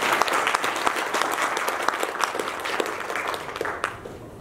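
Concert audience at a memorial music concert breaks into sustained applause, many hands clapping densely and fairly loud, the sound thinning slightly toward the end.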